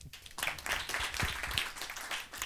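A seminar audience breaks into applause after a sales role-play, a lively burst of many hands clapping with uneven, crackling texture over a couple of seconds; no talking.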